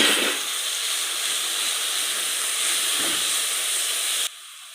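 Ginger-garlic paste and tomato paste frying in a pan, a steady loud hiss of sizzling for several seconds, with a couple of soft clatters, then dropping abruptly to a quieter hiss near the end.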